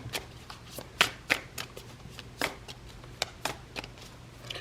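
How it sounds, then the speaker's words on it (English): Tarot cards are shuffled up close in a string of quick, crisp riffling slaps, irregular in rhythm, with no voices. "Shuffle it 3 times."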